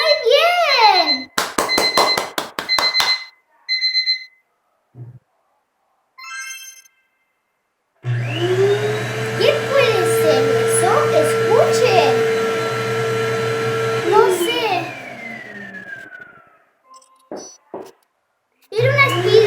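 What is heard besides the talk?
vacuum cleaner running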